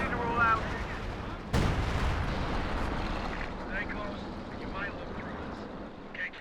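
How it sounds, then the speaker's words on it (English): A single sharp mortar burst from time-fuse shells fired by a half-track in Company of Heroes 2, standing out once over a continuous rumbling battlefield bed with distant game sounds. "we've got some time fuse coming in from the mortar half track as well"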